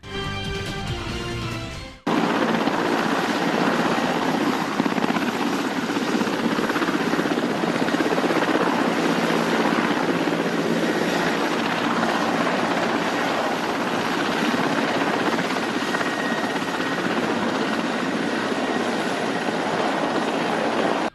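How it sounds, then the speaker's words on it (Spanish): A medium-sized Indian Air Force Mi-8 twin-turbine helicopter comes in to land, its loud, constant rotor and turbine roar filling the air close by after a brief quieter moment at the start. "un helicóptero Mi-8 de doble turbina y tamaño medio, perteneciente a la Fuerza Aérea de la India, derribó una tienda de campaña durante un peligroso aterrizaje"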